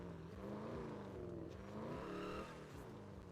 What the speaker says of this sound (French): le bruit, c'est quelque chose, cette voiture